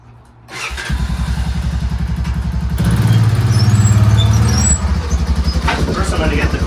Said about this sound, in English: First I'm going to get the quad in place.